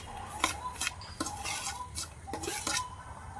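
Jaggery tumbling into a pot and being stirred for a home-style sweet, with repeated clinking scrapes of a spoon against the metal in uneven bursts, close and moderately loud, no voices.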